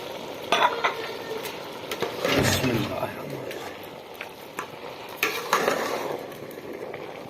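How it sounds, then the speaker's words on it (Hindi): Vegetable pulao rice with green coriander, capsicum and mixed vegetables is stirred in a pot, giving soft scraping, light sizzling and a few clinks of utensil against metal, with a faint voice in the background. "हरा धनिया, थोड़ा सा मिक्स कर लेंगे"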